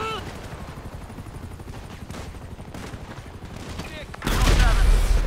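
Sustained rapid gunfire in GTA 5 rattles on as dense automatic fire, ending in a heavier louder burst or blast, with a voice talking over it.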